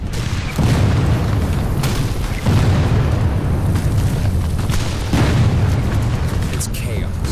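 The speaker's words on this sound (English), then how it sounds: "Bullets and shells fly in all directions." Battle soundscape of shell explosions and gunfire, heavy deep booms recurring every couple of seconds with crackling bursts between them, loud and close throughout.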